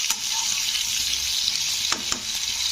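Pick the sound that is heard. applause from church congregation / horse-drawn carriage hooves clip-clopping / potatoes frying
potatoes frying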